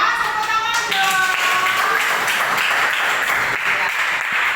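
Steady applause from a small group of pupils in a primary school classroom, broadband clapping with a voice briefly heard at the start over it.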